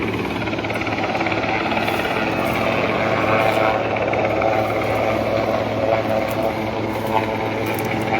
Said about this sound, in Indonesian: baru satu unit helikopter yang melakukan waterbombing